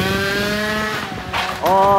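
Scooter engine, carburettor cold and empty, revving with a rising whine, dipping briefly, then catching again louder near the end, close and short.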